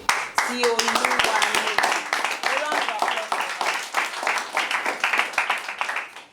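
Audience at a school debate in Lagos applauding the runner-up, a small group clapping in crisp, close hand claps that go on steadily, with voices talking and calling out over the clapping early on.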